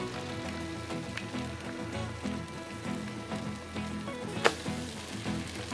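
French toast with cinnamon sizzles on a Blackstone griddle, a steady crackling hiss with occasional sharp pops, moderately loud and unbroken.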